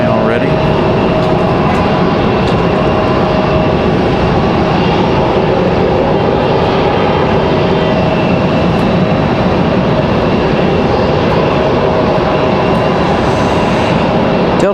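Delta Embraer E175 regional jet taking off from Raleigh-Durham International Airport, heard as a loud, steady, broadband engine roar that holds for the whole stretch, with a faint voice underneath.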